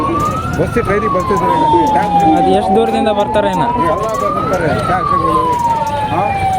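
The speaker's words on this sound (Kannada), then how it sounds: "ಆಂಬುಲೆನ್ಸ್ ಬಂದಂಗೆ ಆಯ್ತು ತಡ್ರಿ ಈ ಕಡೆ ಬರ್ರಿ" An ambulance siren wails loudly through a crowded Mylara jatre festival, its tone sweeping up and down steadily as it passes. Crowd noise and people talking run underneath throughout.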